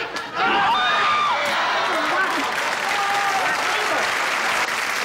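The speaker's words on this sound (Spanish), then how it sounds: "El aplauso para los seguidores." Audience applause fills a large crowd at a big televised tribute show, with a sustained, loud clapping roar from start to finish and a few scattered voices and whoops mixed in.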